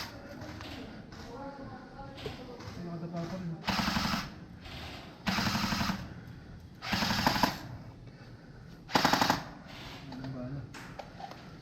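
Automatic gunfire at a military training camp during a window-peeking drill comes in four loud, rattling bursts spaced a second or two apart, with people talking between them.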